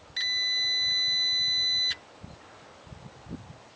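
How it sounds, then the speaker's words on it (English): A single steady high-pitched electronic beep from a digital multimeter continuity test, lasting nearly two seconds, loud and close, then quiet room noise with faint handling sounds. "the digital multimeter continuity setting is working, which will make a beep sound"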